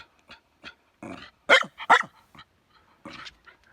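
A dog barks in short bursts, a few sharp yelps and louder barks spaced irregularly over a few seconds, close by and with no talk over them.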